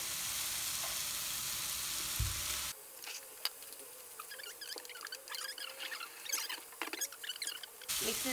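Rice and cooked beef frying in a pan for kimchi fried rice, a busy crackling sizzle with scattered pops and stirring scrapes, close and fairly quiet, alone without talk.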